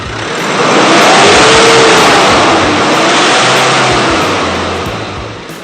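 Nissan R51 Pathfinder engine, likely suffering a common power-loss fault, revved hard to full throttle, a loud sustained roar that swells, holds and slowly eases off over several seconds, with no talk.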